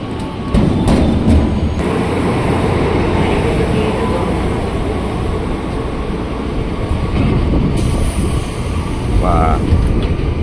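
KRL commuter train bound for Jakarta Kota at Pondok Cina station, a steady loud rumble of rolling carriages with faint clicks, continuous throughout with a brief brighter screech near the end.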